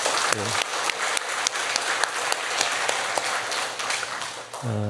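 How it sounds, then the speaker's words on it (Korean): Sustained applause from an indoor church congregation, dense and even throughout, with a voice briefly audible at the start and end. "우리 큰 경의의 박수 한번 드리겠습니다"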